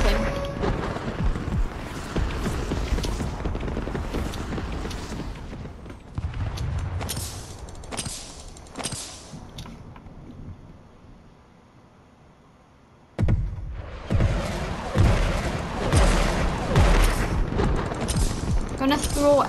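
Airstrike explosions and heavy gunfire in a video game, loud crashing bursts that fade to near silence midway before a sudden blast restarts the barrage.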